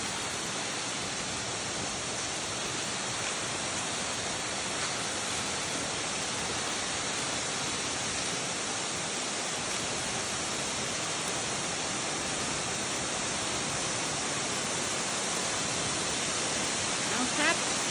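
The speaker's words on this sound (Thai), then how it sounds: "น้ำตกภูผาสวรรค์นะครับนี่ครับ" Phu Pha Sawan waterfall roars in a loud, steady, unbroken rush of falling water heard close up for the whole stretch.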